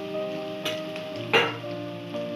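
Vegetarian lauki and paneer kebabs sizzle as they fry in a pan, a steady close crackle with a couple of brief louder bursts, set against faint tonal background music.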